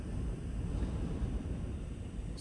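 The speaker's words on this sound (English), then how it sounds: "it's windy and that's annoying" Steady low rumble of wind on the microphone, moderate and unbroken throughout, with no voices.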